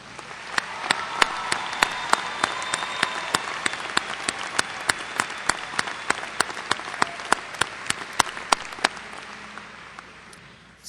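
A graduation ceremony audience gives a round of applause for magna cum laude graduates, a steady wash of many hands clapping in a large hall, with a few sharp individual claps standing out, fading slightly toward the end.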